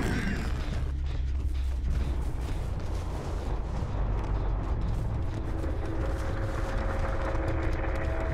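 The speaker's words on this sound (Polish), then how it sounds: "Naprawiamy silnik też z okolicy." A generator being repaired in the video game Dead by Daylight gives a steady, dense mechanical clattering and rumbling that runs without a break at moderate loudness.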